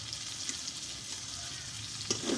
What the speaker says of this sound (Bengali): যে একসঙ্গে ভালোভাবে মশলাটা আমি কষে নেব